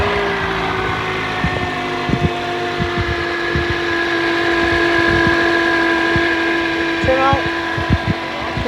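A 2006 Toyota Corolla engine runs after a cold start, a steady close hum with a whining tone and irregular ticking from the engine bay, while a person talks over it.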